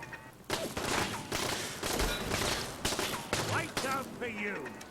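Bursts of gunfire from a gun in Fallout 4 crack in rapid volleys, loud and near, with shots clustering into repeated salvos while a voice talks over them.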